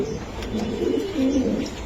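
Farm pigeons in a breeding loft in Dhaka coo with low, rolling calls that overlap continuously, loud and close, over a steady background hum.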